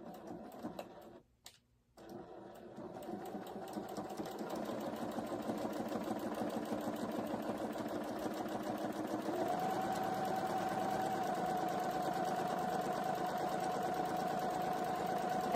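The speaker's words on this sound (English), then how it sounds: "And I top stitched with 1/8 of an inch stitch so that it is just running along the very edge without being too close." Sewing machine topstitching along the edge of a duffle bag, starting after a brief pause and then running in a fast, steady, continuous mechanical chatter.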